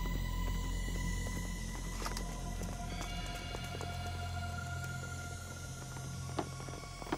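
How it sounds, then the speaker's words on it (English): A horse draws near in a period drama setting in the Qin state of ancient China, its hoofbeats faint and partly buried under a steady low rumble and background ambience, with no distinct clip-clop pattern standing out. "A horse is coming!"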